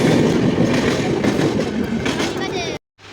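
The Nandankanan Express roars past close by with rumbling, clattering wheels, and then the sound cuts off abruptly.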